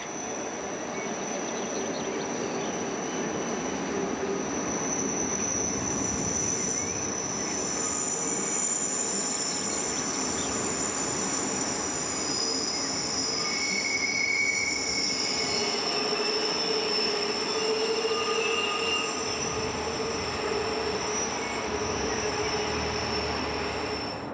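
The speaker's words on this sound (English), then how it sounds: "The train turns through about 360 degrees on open track." The Bernina Express rolls steadily around a spiral viaduct, turning about 360 degrees on open track, a continuous rumble topped by high, sustained wheel squeals that rise and fade as it curves along.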